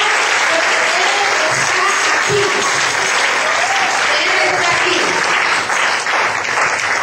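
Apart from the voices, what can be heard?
congregation applauding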